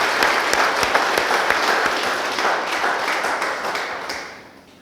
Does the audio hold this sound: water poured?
no